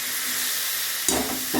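Fish heads sizzle and fry while being sautéed in a pan with potatoes for a Bengali dalna, a steady close hiss with brief louder crackles as they are stirred.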